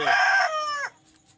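A rooster crows once on a rooftop, close and loud, its long harmonic call stretching out before it drops off abruptly into quiet background noise.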